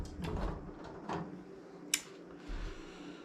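A bent metal drawer in a workshop is tugged and scraped outward in a few rough, uneven pulls, with a sharp metallic clack partway through, fairly quiet and with no talking.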